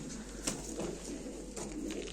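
Pigeons bred as performing birds cooing softly at a live auction, low murmuring coos under a steady hum with a couple of brief sharper sounds, no talking.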